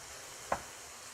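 Jalapenos frying in a hot pan, a soft steady sizzle with one brief louder crackle or pop partway through.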